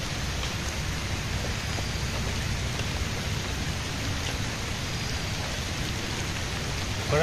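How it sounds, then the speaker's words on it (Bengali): Steady rain falls outdoors in a village, a constant even patter of drops on surfaces that stays unbroken throughout, with no voices. "বৃষ্টি আবার শুরু হলো।"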